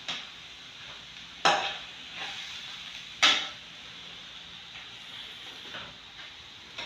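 Boiled mashed potato being stirred into beef empanada filling in a pan: a steady soft hiss with low scraping, broken by two sharp spoon scrapes and a few fainter knocks.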